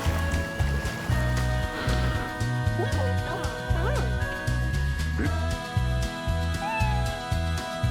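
A cartoon cat in the underwater diving game Dave the Diver gives several rising, whiny meows over bouncy game music with watery effects.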